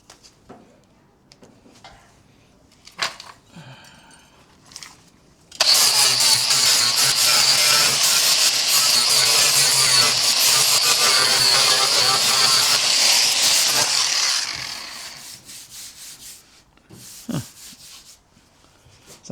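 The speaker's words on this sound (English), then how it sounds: "Let's see if I can pretty this up with the grinder." An angle grinder grinds down a rough Bondo and paint patch on a car panel, a loud steady abrasive whine lasting about nine seconds, preceded and followed by quieter handling noises.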